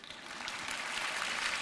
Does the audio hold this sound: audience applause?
yes